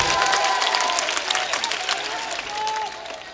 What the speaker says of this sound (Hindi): एक बार दोनों हाथ खड़े करके जोरदार तालियां बजाकर मुझे हुक्म दें।